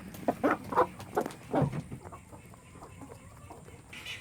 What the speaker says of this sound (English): the chickens, they like to peck around on the ground